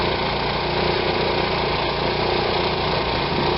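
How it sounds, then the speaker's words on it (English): An RV generator running under full load, a loud, steady, close engine drone with a low vibrating rumble and no talking. "It's running on a full load right now."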